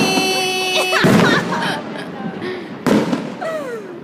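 Fireworks at a Swiss National Day celebration burst in two loud, sharp explosions with rising whistles and crackling tails, and people chat and exclaim in the background between blasts.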